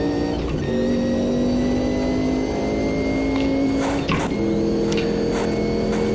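A Sauber C9 Group C race car in Automobilista 2 drones with a loud, steady engine note, its harmonics shifting as the revs rise and fall, with a brief dip around a gear change, close and continuous with no talk.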